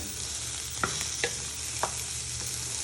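Peppers browning in a pan for Mediterranean stuffed peppers give a steady soft sizzle, broken by three brief scraping knocks of a wooden spoon stirring them.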